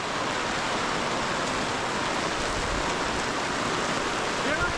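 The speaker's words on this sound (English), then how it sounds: "Having a bit of a wind and rain event here." Sudden heavy rain and wind at a campsite, a dense, constant roaring hiss of downpour and gusts that fills the whole clip with no letup, loud and close.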